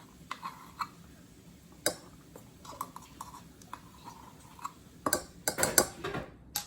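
All-purpose flour and baking powder being mixed in a bowl for cinnamon walnut bread: soft, quiet scraping and light ticking taps of a utensil, then a brief cluster of louder clatter near the end.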